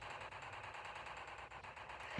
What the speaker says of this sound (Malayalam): ഒക്കത്തിനങ്ങ് വെടിച്ചേക്കാം.